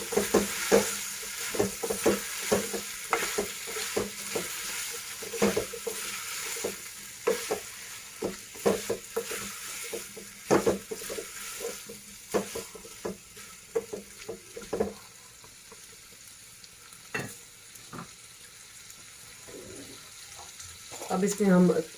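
White lima beans and softened tomatoes being stirred in a pan for a Sindhi-style dish, with a spoon scraping and clacking in irregular strokes over a faint sizzle, with a few soft thumps near the end.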